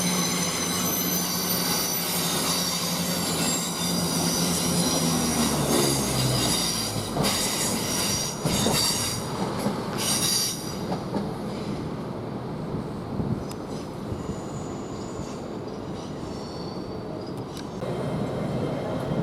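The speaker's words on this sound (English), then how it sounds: "Now we've got this northern set, which is now departing from Sheffield to Scarborough" A Northern passenger train from Sheffield to Scarborough rumbles away from Doncaster station, wheels squealing loudly early on, then a steady rolling clatter and whine continues close by.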